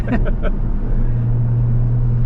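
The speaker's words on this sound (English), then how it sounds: "Oh, the turbo kick in is good." Turbocharged B58 engine of a Toyota Supra droning loud and steady from inside the cabin as it accelerates, with a rising low hum and brief voice-like bursts near the start.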